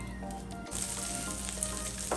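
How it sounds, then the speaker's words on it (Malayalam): Chicken pieces fry in butter in a pan, producing a close, bright sizzle with small crackles and pops that grows a little livelier partway through, with no speech. "ഒരു കൊച്ചു കുഞ്ഞു കഷ്ണം ബട്ടറും കൂടെ ഇട്ട് ബാക്കി നമുക്ക് വറുത്തെടുക്കാം"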